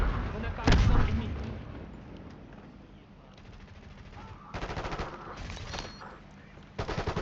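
A frag grenade goes off in Call of Duty, heard as one heavy, booming blast followed by rumbling gunfire and rattling machine-gun bursts, with a voice speaking over the game audio.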